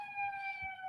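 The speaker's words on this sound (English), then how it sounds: "I'll wait till the siren." Emergency vehicle siren passing outside, heard indoors as steady high tones holding through the moment, with faint low background noise beneath.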